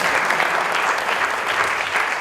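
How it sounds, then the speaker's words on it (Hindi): Theatre audience applauding a stage drama, a dense, steady wash of many hands clapping throughout at a consistent loud level. "तालियां तो बनती हैं"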